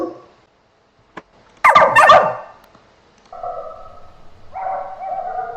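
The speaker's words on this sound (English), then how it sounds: "Make 3 sounds of a dog barking." AI-generated dog barks, three separate bursts: a sharp yapping pair, then two longer whining, howl-like barks, the last one quieter, heard alone and up close.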